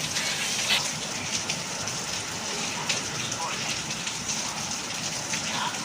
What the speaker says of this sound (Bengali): বৃষ্টি দেখছে জানলা থেকে